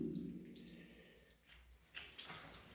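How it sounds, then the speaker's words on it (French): Water seeps through the concrete and trickles into a corner of a cannon casemate bunker, a faint, quiet running and dripping close by with no voices. "Donc vous voyez l'eau qui sointe, ça passe à travers le béton. Ça coule dans le coin."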